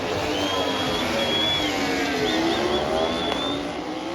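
Moto2 motorcycles scream past on a wet qualifying run at the MotoGP Bharat Grand Prix of India, several high-revving engines whining and shifting pitch through a dense, continuous roar with a broad wash of crowd or spray noise beneath.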